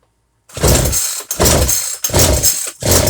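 A Poulan Pro chainsaw engine roars to life in loud repeated bursts after a quiet start. Each rev surges, briefly dips, then catches again, close to the microphone.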